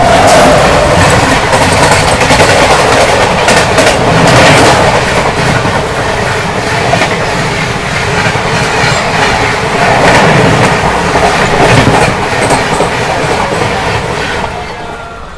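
The 12246 SMVT Bengaluru–Howrah Duronto Express runs at speed, heard from inside a non-AC sleeper coach as a loud, steady rumble. Rhythmic clickety-clack of wheels and rattling carriage noise continue throughout, with no voices.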